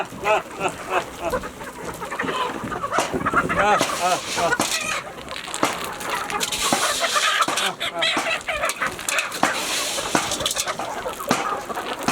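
Chickens clucking and squawking busily close by while being fed grain, with occasional rustling and scattered voices in the background.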